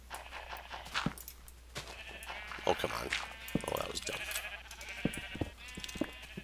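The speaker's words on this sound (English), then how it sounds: "So this video is just about me organizing this sheep farm here." Sheep bleat repeatedly on a sheep farm in Minecraft, several cries layered close together under a man's frustrated speech, with game background sounds running throughout.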